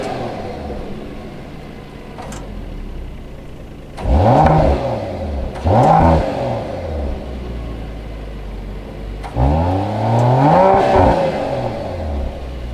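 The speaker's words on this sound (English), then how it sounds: "quad exhaust outlets pumping out the optional performance exhaust on this one" A 2021 Mercedes GLE 53 AMG with optional performance exhaust and quad outlets revs hard three times, each blip rising and falling with a throaty roar over a steady idle, close and loud with no talking.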